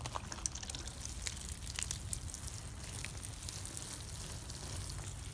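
Water splashes and trickles onto soil around a newly planted tomato plant in a garden, a soft continuous pour with small drips, faint and close.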